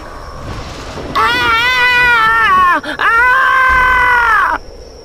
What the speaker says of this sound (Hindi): इतना सुनने के बाद ही वो जोरों से चिल्लाई